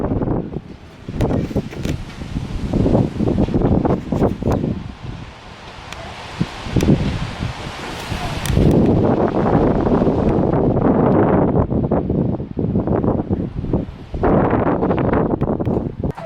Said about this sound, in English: let me see if I can show you this wind outside the window